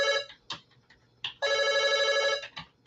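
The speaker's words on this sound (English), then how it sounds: "Oh, there's a phone going." A telephone rings in bursts of trilling electronic bell tone, a few short rings followed by one longer sustained ring, fairly near and with no talk over it.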